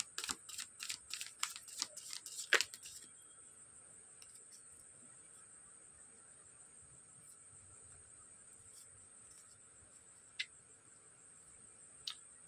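A deck of tarot cards is shuffled and drawn, giving a quick run of crisp riffling snaps over the first few seconds, then near-silence with a faint steady high hiss and a couple of isolated soft clicks.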